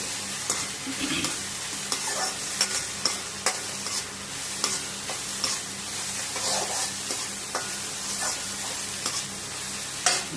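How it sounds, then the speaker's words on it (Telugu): Onions, tomatoes and green chillies stir-fry in a pan with potatoes for an aloo matar fry, a steady sizzle running throughout with repeated scraping clacks of the spoon, close and fairly loud, with no voices. "3 ఆనియన్ వేసాను, 2 టమోటాలు, పచ్చిమిర్చి కూడా వేసేస్తున్నా. బాగా ఫ్రై చేసుకోవాలి."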